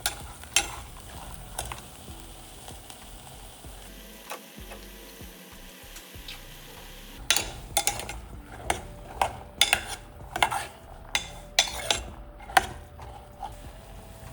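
Masala paste for kadale kaalu sambar cooks in a pan on a low flame, with a faint background hiss and a series of sharp scrapes and clinks from stirring that grow busier in the second half.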